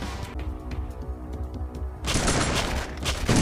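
Dense gunfire from the zombie-survival video game Dead Ahead Zombie Warfare, with low rumbling shots that swell into a loud, continuous volley in the second half.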